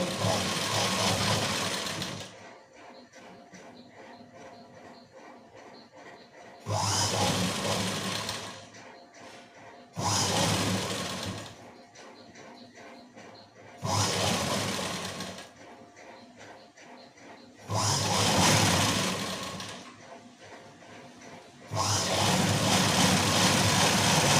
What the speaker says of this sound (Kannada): ಈ ರೀತಿ ನಾವು ಸಿಂಗಲ್ ಸ್ಟಿಚ್ ಹಾಕಿ ನೋಡ್ಕೋಬೇಕು.